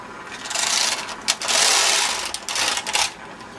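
A knitting machine carriage sliding across the needle bed, a loud mechanical whirring rasp in several sustained passes broken by brief clicks and pauses.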